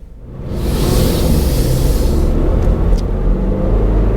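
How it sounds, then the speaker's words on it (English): A 2022 Toyota GR86 sports car pulling away, its engine rising from quiet into a steady close rumble with wind and road noise building, no talking. "Let's go ahead and take this baby for a drive."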